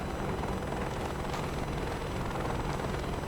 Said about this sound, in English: Now, landing in the Huey.